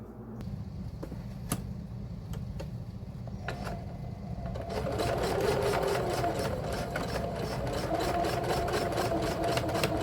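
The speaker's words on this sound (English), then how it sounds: "So I will sew those, start sewing them together now." A few sharp clicks and ticks come first, then a sewing machine starts up and runs steadily, stitching skirt pockets together with a fast, rhythmic chatter close by.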